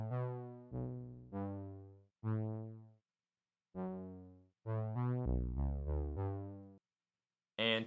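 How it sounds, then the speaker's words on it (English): A synth bass line from a pop production plays alone in short punchy notes with clear gaps between phrases, followed by a bright burst at the very end. "And then we have the synth bass."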